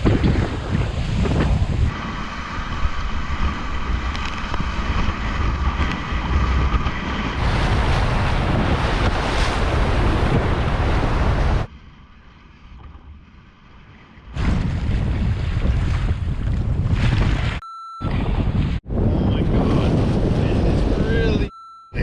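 Strong wind buffets the microphone while a small boat moves over open water near an island on a wilderness camping and fishing trip. A loud, roaring rush rises and falls in gusts, with brief quiet gaps and short cutouts near the end.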